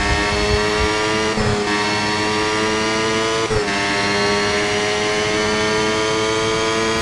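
An F1 race car engine in a mobile racing video game drones at a steady high pitch, loud and continuous, with small shifts as the car runs down the start-finish straight.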